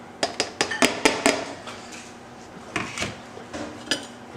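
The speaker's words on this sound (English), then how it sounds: "I'm just gonna stir it right in there." A spoon stirs parsley and green onion into a pot of gumbo, making a quick series of close metallic clinks and scrapes against the pot, a burst of taps, a brief pause, then more knocks.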